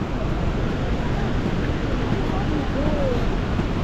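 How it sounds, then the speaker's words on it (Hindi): Continuous loud rushing of the Saraswati river flowing among mountains near Mana village in Uttarakhand, with a voice faintly over the steady roar. "और ये सरस्वती नदी है।"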